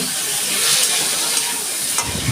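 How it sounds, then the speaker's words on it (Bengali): Potatoes frying in oil in a pan, a loud, close, continuous hiss and sizzle over the whole short stretch. "আমি আলুটাও একটু ভেজে নিচ্ছি।"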